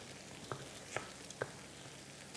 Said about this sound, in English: now we're adding in our dry rice, and again a quick stir to coat the rice grains